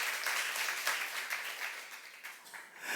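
Clapping from a church youth congregation during a Korean sermon, a soft, fairly distant patter of many hands that swells and fades slightly, with no voices over it.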